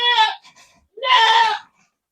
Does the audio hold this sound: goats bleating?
yes